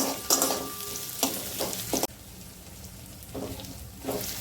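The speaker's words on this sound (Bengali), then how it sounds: "পেঁয়াজটাকে ভালো করে লাল লাল করে একদম ভেজে নেবো।" Onions fry in oil until browned for a kabuli chickpea dish, a close, steady sizzle punctuated by several bursts of spatula stirring and scraping, with one abrupt drop in loudness midway.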